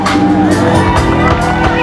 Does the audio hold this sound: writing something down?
no